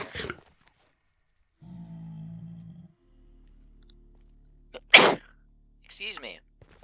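A single sharp sneeze bursts out loud and close during a Minecraft Bedrock speedrun, set among stretches of near silence, a low hum and brief bits of talk.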